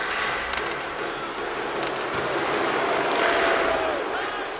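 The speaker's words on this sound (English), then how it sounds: "You can feel the energy in this crowd." A large arena crowd in the video game NHL 24 roars steadily throughout, a loud sustained wash of cheering with scattered sharper bursts during a tied hockey game.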